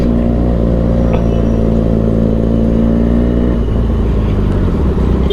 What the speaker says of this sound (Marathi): खतरनाक आवाज एकदम सुपर बाईकचा आवाज आहे.